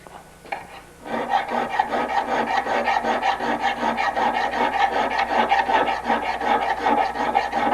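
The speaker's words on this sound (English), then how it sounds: "filing here so you can see it. Taking off this little burr right on top of the lug." Small file rasping a burr off the top of a lug on a lugged bicycle frame, a fast, even run of close, loud scraping strokes that begins after a second of quiet handling.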